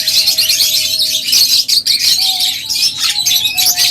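A pair of red-eyed cage birds chirp at a bird market, with busy, close, overlapping tweets and calls over faint background tones.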